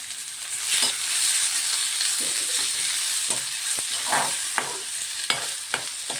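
Onion sautés in a pan for a small egg curry, hissing steadily with frequent clinks and scrapes of a spoon stirring against the pan, close and clear.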